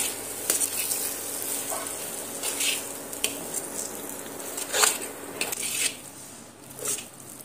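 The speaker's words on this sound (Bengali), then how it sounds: "কাজু বাদামটা দিয়ে আবারও এইভাবে মিনিট 2 সময় নিয়ে সাগুর সঙ্গে এইভাবে নেড়ে চেড়ে নিতে হবে।" Chopped cashews are stirred with sago in a pan with a spatula, producing soft scraping and rustling strokes in irregular bursts over a low steady sizzle, heard up close with no talking.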